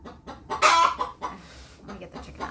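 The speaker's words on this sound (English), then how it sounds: "Let me get the chicken out of the house." A chicken clucks inside a house, giving a short burst of loud, sharp clucks followed by softer intermittent clucking with some background rustling.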